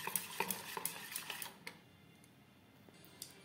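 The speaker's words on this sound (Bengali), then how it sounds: "প্রত্যেকবার ব্যাটারটা দেওয়ার সময় এভাবেই একটু ফেটিয়ে নেব।" Rice flour batter for chitoi pitha is whisked in a bowl, making a quick run of light metallic clicks and taps that stops after about two seconds, leaving a faint hush with one or two soft knocks.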